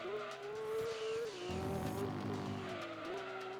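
A race car in Gran Turismo 2 screeches through corners, tires squealing in a sustained wavering whine over a droning engine that rises and falls, fairly faint.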